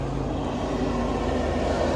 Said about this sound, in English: dump truck with no exhaust